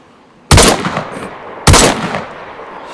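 Two loud, close SKS rifle shots in DayZ, spaced about a second apart, each with a sharp crack and a brief echoing tail.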